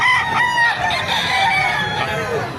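Rooster crowing close by, a drawn-out bright call with harmonic bands running about two seconds, with fowl clucking faintly in the background; a golden-colored long-legged bird among gamefowl breeds.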